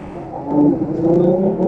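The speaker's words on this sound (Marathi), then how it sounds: "अरे भाई एकाने गाडी काढली का?" Car engine revving in a 3v3 multiplayer video game, a loud, close whirring rev that rises and holds steady for under two seconds, with no talk over it.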